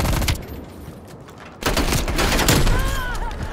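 Gunfire from a weapon in Call of Duty Cold War: a rapid burst of shots, a brief pause, then another sustained loud burst, with a player's voice faintly under it.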